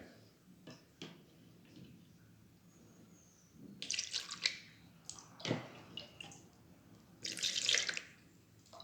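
Kitchen tap water runs and splashes in short bursts into a container for sourdough dough, with drips and handling clatter between pours, close by and no speech.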